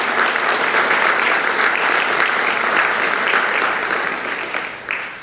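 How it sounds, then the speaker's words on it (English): A fundraising event crowd bursts into loud, dense applause that holds steady for several seconds, then thins and tapers off near the end. "Give yourselves a round of applause."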